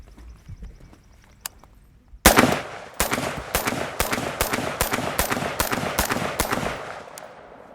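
A LAW Tactical ARIC short rifle fires 300 Blackout supersonic rounds, about ten loud, sharp, evenly spaced shots close by, each cracking and ringing out, after a quiet lead-in.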